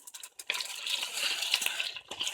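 Water splashes and pours into a pot of brown stew chicken, a close hissing gush that starts abruptly after a few soft clinks and runs on unevenly for about two seconds.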